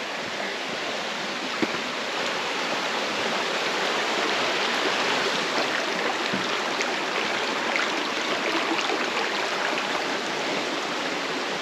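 Water flowing in East Palisade Creek along the Superior Hiking Trail, a steady broadband rush that stays constant and fairly loud throughout with no voices.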